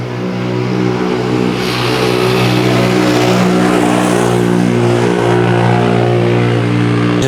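A quad bike passing close by on a road, its engine droning loud and steady with a rising, revving tone that swells through the middle and holds to the end, heard alone without talk.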